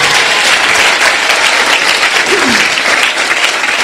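A church congregation claps together in sustained, loud, dense applause that fills the space throughout, with a brief voice rising faintly beneath the clapping.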